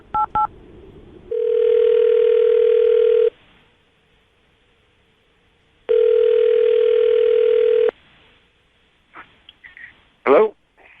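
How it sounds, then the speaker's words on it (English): A telephone line plays two long steady tones while a number is dialed, each lasting a few seconds with a silent gap between, preceded by short dialing beeps and followed by brief clicks. "I'm going to dial the phone number"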